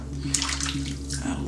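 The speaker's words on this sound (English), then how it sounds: "Add a little bit of extra water." Water is poured in while synthetic shaving soap is lathered with a brush, giving a short wet splashing and swirling sound over a steady low hum.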